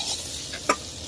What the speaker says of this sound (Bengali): ভাজাবো, একটু লাড়া দিয়ে দেই